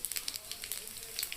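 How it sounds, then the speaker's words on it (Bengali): Whole cumin seeds spitting in hot oil for a Bengali potato-pea paneer dish, a faint, steady crackling sizzle with scattered sharp pops, no voices. "তেল গরম হয়ে গেছে বন্ধুরা, এবার ফোড়নে দিয়ে দিচ্ছি গোটা জিরে"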